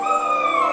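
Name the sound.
German Shepherd puppies crying in crates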